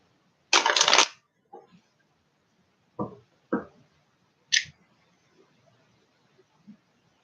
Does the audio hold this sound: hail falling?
no